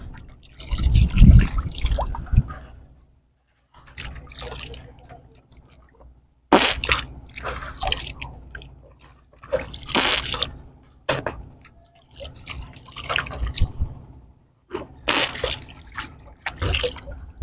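Water laps and drips in short splashy bursts around a bamboo raft on the Bangshai river, close by, with quiet gaps between the splashes.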